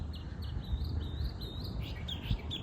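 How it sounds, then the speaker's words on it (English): Several birds chirp and sing outdoors on a morning, with high, quick tweets repeating continuously over a low rumble of wind or ambient noise, fairly faint and with no one speaking. "All those birds are really chirping."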